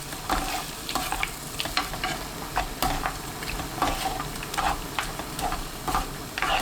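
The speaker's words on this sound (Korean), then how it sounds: "재빠르게 양념과 낙지를 볶아주고" Octopus and sauce stir-fry over very high heat in a pan, a dense close sizzle under fast, repeated scraping and clacking of stirring, with no voices.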